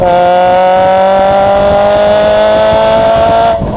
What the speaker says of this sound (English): Just listen to that Larini, a beautiful Larini exhaust.